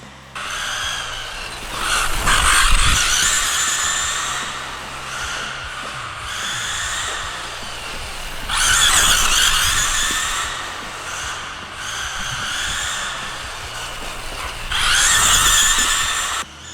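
A Losi 22S RC sprint car drives on a track, its small electric motor whining high and shrill, surging louder in three separate passes with quieter stretches between, alone without talk.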